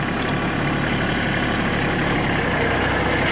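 A Kubota tractor engine idles loudly and steadily up close, a continuous low rumble with no distinct gear clunk standing out over the drone.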